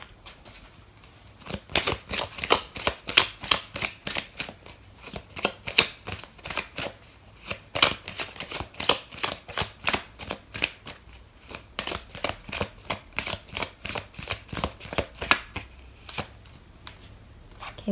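Tarot cards are shuffled close up in a long run of quick, crisp riffling bursts and soft flutters that repeat steadily for nearly eighteen seconds, with no voices.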